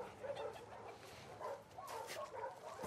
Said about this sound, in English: First of all, let me pet the dog.